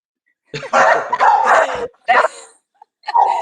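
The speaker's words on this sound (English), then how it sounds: "the dogs would start barking at one point, like clockwork" Dogs bark loudly and close by in several short bursts with brief pauses between them, some of the barks edging into yips.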